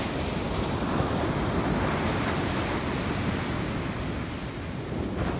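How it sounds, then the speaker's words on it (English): Rough ocean surf crashes steadily on a beach at dawn during surf fishing, giving a loud, continuous roar mixed with wind buffeting the microphone. "Ocean's really rough today."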